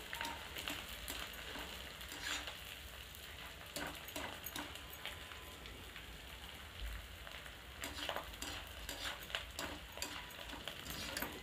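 Gond roasting in a pan for harira, stirred constantly so it puffs up without burning; a steady soft sizzle and crackle runs throughout, with faint scrapes of the stirring spoon, no voices.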